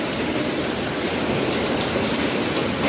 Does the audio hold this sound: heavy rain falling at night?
yes